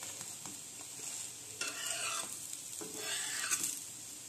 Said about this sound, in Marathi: एक 2 मिनटं भाजून आणि चांगलं भाजून घेऊया